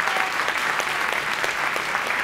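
Steady audience applause fills a FameLab Ireland science-communication final, a dense, even patter of many hands clapping throughout with no voices standing out.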